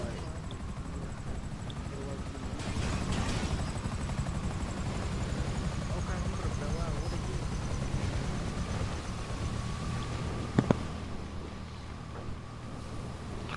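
A helicopter sets down on a tugboat in a video game, its rotors a steady, dense roar that runs the whole time while voices talk over it.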